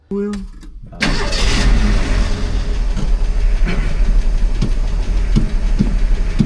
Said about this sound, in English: It's running, smoking a little, and just going to run down the gravel road